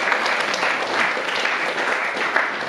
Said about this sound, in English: let's give a big applause to all these wonderful devotees